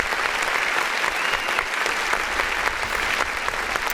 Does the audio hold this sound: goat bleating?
no